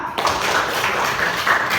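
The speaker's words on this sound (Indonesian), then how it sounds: "Oke, beri tepuk tangan." Students in a classroom clapping, a short dense burst of many hands clapping together, close and fairly loud, lasting under two seconds.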